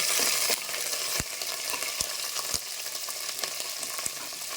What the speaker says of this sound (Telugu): కొంచెం బాగా గోల్డెన్ కలర్ వచ్చేటట్లు వేయించుదాము